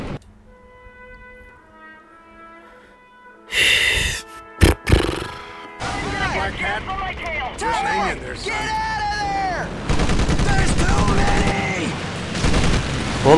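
Gunfire in Medal of Honor: Pacific Assault during a night defence mission: loud bursts of shots crack out near the middle, then continue under busy game noise, shouting and voices.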